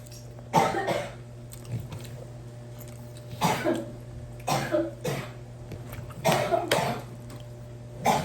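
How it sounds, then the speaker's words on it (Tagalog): Repeated coughs, close by, coming in clusters every second or two over a steady low hum. "Lumalambot na yung ubo niya, in fairness."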